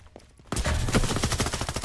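Rapid automatic gunfire in a futuristic free-to-play shooter game bursts in suddenly after a quiet moment, a dense fusillade of close, loud, evenly spaced shots continuing to the end.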